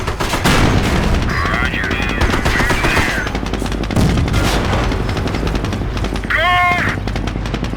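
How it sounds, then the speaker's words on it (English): Battlefield gunfire in a Company of Heroes match: rapid machine-gun bursts and shots rattle continuously through the clip, loud and close, with radio-style voice lines and short spoken commands heard over the combat. "Taking fire."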